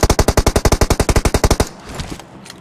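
Uzi fire in PUBG Mobile, one rapid burst of about twenty evenly spaced loud shots over a second and a half, then quiet faint game noise.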